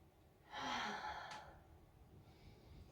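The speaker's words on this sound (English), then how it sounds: "Take a couple breaths" A single slow, audible exhalation from a yoga practitioner during a full-body flow, close and breathy, swelling then fading over about a second against a quiet room hiss.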